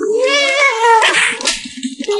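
A cat gives one loud, drawn-out, angry meow close to the listener. The rising, whining wail is followed by short, breathy grumbles.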